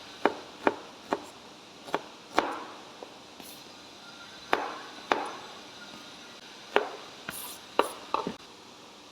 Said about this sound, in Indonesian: Nah, bawang-bawangnya ini kita potong kecil-kecil ya.